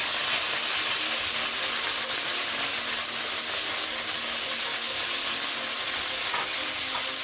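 Minced mutton frying in a karahi with garlic and ginger gives off a loud, continuous, even sizzle that holds steady from start to finish.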